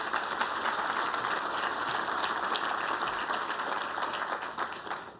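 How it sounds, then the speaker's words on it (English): An audience at a Norton Hospital event in Louisville applauds with sustained, even clapping from many hands at a moderate distance, holding steady for several seconds before starting to fade at the end. "So please give them a round of applause as well."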